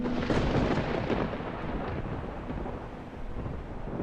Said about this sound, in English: until thunder silenced them